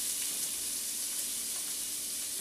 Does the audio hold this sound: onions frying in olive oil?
yes